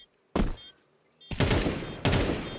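Gunfire in Counter-Strike 2 during a match at EWC, a single sharp shot followed by two heavy bursts of rapid fire, close and loud.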